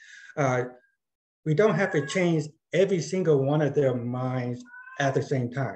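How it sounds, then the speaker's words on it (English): A pet cat meows indoors, short calls heard between and under a man's steady speech during a talk. "sorry, that's my cat."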